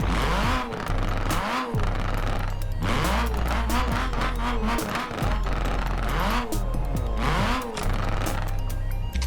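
A Nissan Pulsar GTI-R rally car driven in Forza Horizon 4 roars loudly and continuously, its engine climbing and dropping through repeated gear changes with occasional tyre squeal, close and alone without talk.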